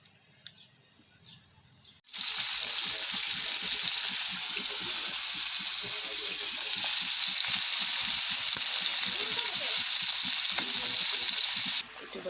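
Tomatoes frying in a pan with fish, a loud steady sizzle starting abruptly after two quiet seconds and continuing evenly, with occasional stirring scrapes and no talk.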